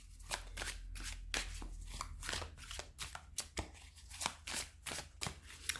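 Tarot cards shuffled and handled up close, a steady run of crisp riffling and flicking bursts with short pauses, no voices over it.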